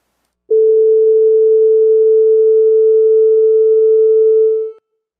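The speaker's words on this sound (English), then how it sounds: "Here's a sine wave, and you can hear what it sounds like." A pure sine wave tone holds at one steady pitch, loud and clean, for about four seconds before cutting off, with silence on either side.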